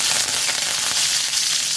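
Curry leaves and fennel seeds sizzle in hot oil, a dense, steady crackling hiss with sharp pops throughout, close and loud with no talk.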